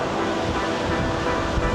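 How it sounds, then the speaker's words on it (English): Strong wind gusts across a microphone outdoors on the streets of Midtown New York City, a loud, steady roar of rushing air and buffeting with no talking. "It's windy as hell."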